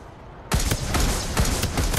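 Video game gunfire in Farlight 84 breaks out suddenly as a rapid, continuous burst of loud automatic shots with sharp repeated cracks, close and with no talking.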